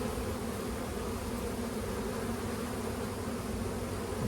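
Honey bees crawling on a hive frame during a hands-on beekeeping class, a dense, continuous, close buzzing hum that stays loud and even throughout with no talking.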